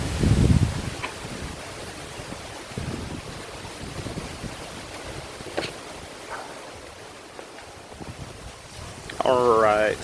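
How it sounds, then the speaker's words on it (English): Gusty wind buffets the microphone outdoors beside a Volvo S60 during a coilover install, a steady broadband rush with a few louder gusts and brief bumps, and someone speaks near the end. "Sorry about the wind noise, guys."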